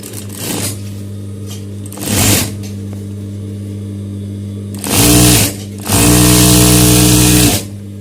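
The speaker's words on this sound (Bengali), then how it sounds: "তো আমি এখন অপর প্রান্তে এটা সিলাবো" A domestic sewing machine stitches fabric in short bursts: a loud rhythmic mechanical whirr runs briefly, pauses, then returns in two longer runs, close and alone over a low steady motor hum.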